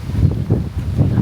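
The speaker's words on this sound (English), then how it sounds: "It's so windy right now." Strong outdoor wind at a Scottish resort play park in Crieff buffets the microphone in loud, low gusts that surge and fade in uneven bursts.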